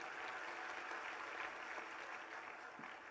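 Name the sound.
audience clapping for a girl's question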